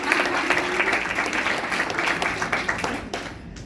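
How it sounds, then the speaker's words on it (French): Audience applause during a live talk, a dense burst of clapping from a crowd that holds steady and then thins out and fades near the end. "Est-ce qu'on peut s'applaudir?"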